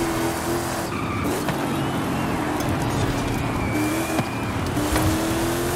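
A Hot Wheels car races at very high speed in Forza Horizon 5, its engine holding a steady drone with faint tire squeal and passing road noise throughout, no talk.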